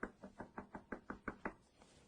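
Nine quick, evenly spaced knocks on a door, faint and alone, a steady rapping rhythm that stops abruptly.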